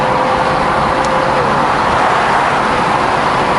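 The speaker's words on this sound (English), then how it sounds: "it's getting hard for me to talk with all the wind because I can't hear myself" Steady, loud broadband wind roar buffets the microphone while driving an older open-top convertible car, with road and engine noise blended underneath and no speech.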